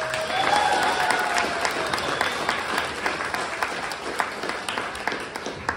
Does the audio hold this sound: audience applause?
yes